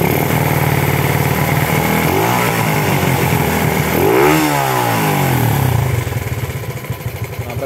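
A Honda Astrea motorcycle engine runs close by, revved up in a rising and falling sweep midway before settling back toward a steady idle.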